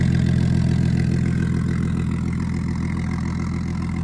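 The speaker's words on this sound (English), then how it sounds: "Turbo spooling, letting the old oil burn off real quick." A BMW F10 535i with a newly installed turbo runs at a steady idle, its engine hum close and continuous with only a slight rise and fall throughout.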